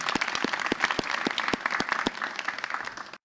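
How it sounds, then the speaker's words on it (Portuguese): Applause from a small live audience at a poetry podcast recording, a steady wash of hand claps with a few sharp individual claps standing out near the microphone. "salve de palmas aí para o pessoal"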